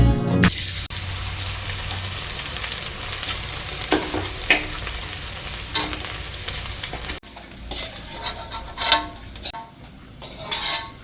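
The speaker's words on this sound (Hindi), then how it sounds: "तो चलिए फिर दाल में तड़का लगा लेते" Spices tempered for dal hit hot oil with a loud sizzle and crackle, followed by stirring and clinks of a pan and utensils.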